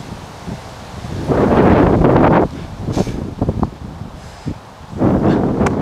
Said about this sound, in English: I'm into this really big headwind.